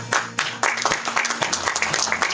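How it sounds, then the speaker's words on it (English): Audience applause at a sports club kit launch and gala dinner: a burst of loud, close clapping, uneven and crowded, with a voice speaking over it. "Big round of applause for him too"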